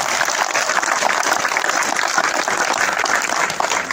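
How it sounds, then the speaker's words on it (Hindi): Loud, dense applause from a gathered crowd welcomes honored guests at a BJP city event for Ayodhya kar sevaks, steady and sustained throughout with no talk over it. "एक बार फिर जोरदार तालियों के साथ में स्वागत करें।"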